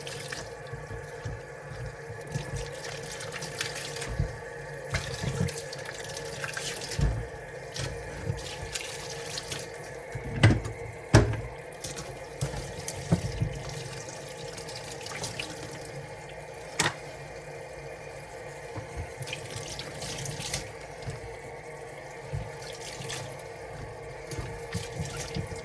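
Vegetables get rinsed under a running kitchen tap into a sink, a continuous soft stream of water broken by irregular splashes and drips as the produce is handled close by.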